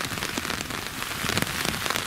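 Steady rain patters densely on a surface nearby, a constant hiss with scattered louder drops and no voices.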